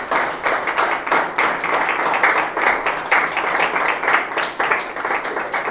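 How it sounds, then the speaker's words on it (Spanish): A church congregation applauding during a worship service, producing steady, dense clapping that holds at an even loudness throughout, with no spoken words. "Dale un aplauso al Señor"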